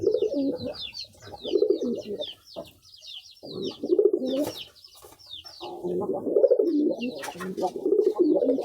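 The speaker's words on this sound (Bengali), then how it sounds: "নট কবুতরটা দেশি কবুতরটা অনেক সুন্দর দেখেন" Native pigeons coo close by in repeated low, throaty phrases with brief pauses, while sharper chirps from other birds flicker above them.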